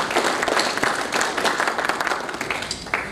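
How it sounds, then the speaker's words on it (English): An audience at a community event breaks into a sustained round of applause, dense and steady clapping close by, tapering slightly toward the end. "a big round of applause for that"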